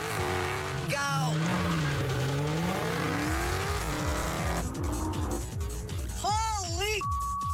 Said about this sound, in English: that Tesla's quick off the line